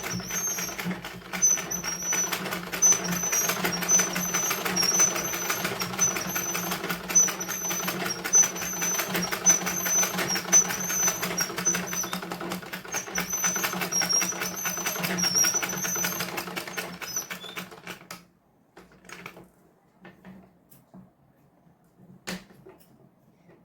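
A sewing machine runs fast and steadily while stitching a blouse seam, a continuous rattling hum for roughly eighteen seconds before it stops, followed by a few faint clicks and handling sounds.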